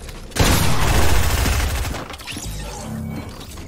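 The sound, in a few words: gunfire in the video game Fortnite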